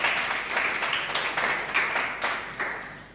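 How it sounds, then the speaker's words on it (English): Applause for debating teams at an island debating competition, a moderate burst of clapping with rhythmic swells, fairly distant and faint. "I want to give them a round of applause"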